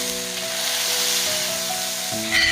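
Meat patties frying in a pan give a steady, close sizzle over a faint humming tonal background, with no one speaking.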